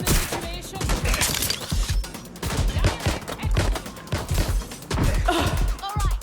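Bursts of gunfire rattle in the Watch Dogs: Legion video game, rapid shots and automatic volleys repeating over several seconds while game voices shout between them.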